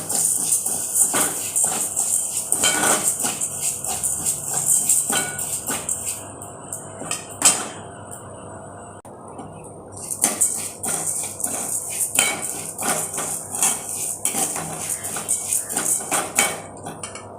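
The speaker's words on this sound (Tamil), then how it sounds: "இதை இப்போ லைட்டாக வறுக்கணும்" Raw rice flour being dry-roasted in a pan for ulundu kali, with repeated scraping and clinking of a metal spoon against the pan in quick irregular strokes, close and fairly quiet, pausing briefly midway.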